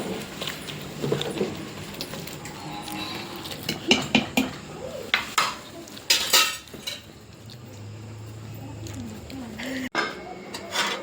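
A utensil stirring food in a pot in a home kitchen, giving several scattered metallic clinks and scrapes at irregular intervals, close by, mixed with someone talking.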